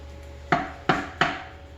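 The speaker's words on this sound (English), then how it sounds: "all we're doing is just chopping up that package of sausage" A package of sausage is chopped up in a pan, giving three sharp knocks of a utensil against the pan, spaced under half a second apart, over a faint steady background hum.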